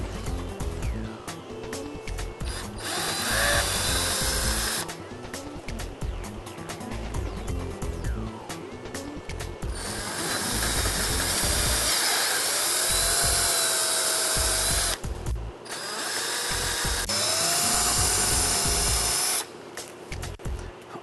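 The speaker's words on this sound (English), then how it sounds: "Now I'm going to go ahead and use a standard style drill bit." A standard drill bit bores holes into a motorcycle tour pack, the power drill whining loudly in repeated bursts with brief pauses between runs, close and with no talk.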